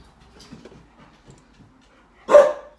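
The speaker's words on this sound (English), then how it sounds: "stop barking, go upstairs" A single loud bark rings out near the end after faint, quiet movement sounds.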